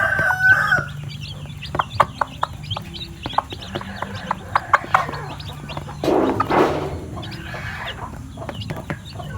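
Chickens cluck and chirp close by alongside small newly hatched chicks, with a rooster crowing briefly and scattered pecking taps, a busy, layered farmyard chatter throughout.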